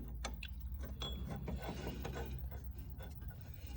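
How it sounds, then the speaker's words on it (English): Ratchet clicking as a bolt is tightened on a 1978 Arctic Cat El Tigre snowmobile, a quiet series of rapid metallic clicks in uneven bursts with faint background noise, no talking. "gonna tighten up the top one"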